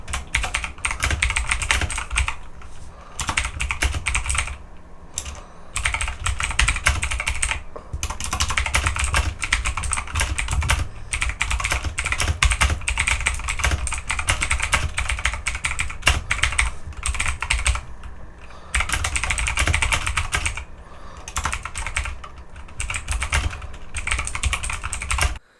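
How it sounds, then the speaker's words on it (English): Fast, continuous typing on a $22 budget MeToo mechanical keyboard, loud close key clacks in dense rapid bursts with only brief pauses. "let's give it a type"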